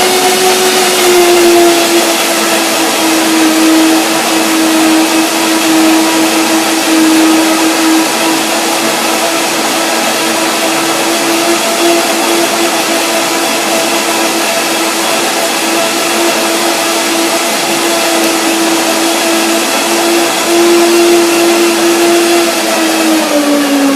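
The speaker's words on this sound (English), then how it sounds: "So this is a quick blend up." A blender running steadily, blending hazelnuts and bananas for a smoothie bowl, with a loud unbroken motor whine holding one pitch for the whole stretch and no talk over it.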